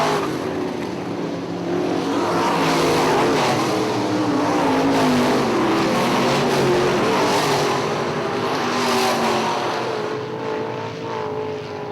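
IMCA modified race cars roar around the dirt oval at Ionia Raceway Park on the final lap, a loud, steady engine drone with passing swells and no talk over it.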